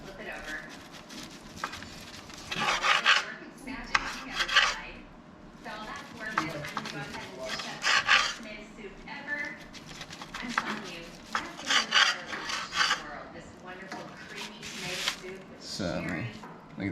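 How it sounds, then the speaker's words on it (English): A knife slices through smoked prime grade brisket, giving repeated cutting and scraping sounds in irregular bursts while someone talks throughout. "I'm just gonna cut a couple more slices out of this."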